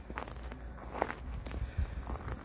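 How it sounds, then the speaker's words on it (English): Footsteps crunch over ice-coated grass after an ice storm, a few close, brittle crackling steps at a walking pace with no talking. "And the grass makes noise when you step on it."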